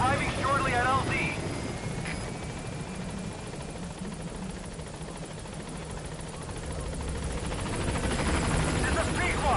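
A Pequod helicopter in Metal Gear Solid 5 approaches a landing zone, its steady rotor and engine drone holding loud and continuous throughout, with a brief radio-style voice near the start.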